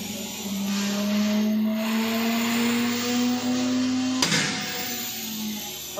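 A testing machine spins a Blueshark 230mm cutting disc up toward bursting speed, giving off a steady rising whine over a constant mechanical hum, with a sharp click or jolt near the end before the tone starts to fall.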